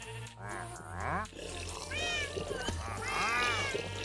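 Several short meows from Minecraft cats in a survival world, overlapping and fairly close, over a steady low background hum with some faint clatter.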